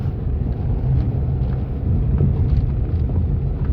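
Wind buffets the microphone in a constant low, rumbling roar that swells slightly and never lets up.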